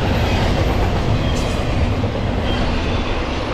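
A Norfolk Southern intermodal freight train rumbles past close by in frosty woods, a loud continuous roar of wheels and rail noise with faint clatter.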